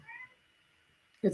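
A real pet cat meows close by, two short calls: a soft, drawn-out one at the start, then a louder, sharper meow right at the end after a quiet stretch.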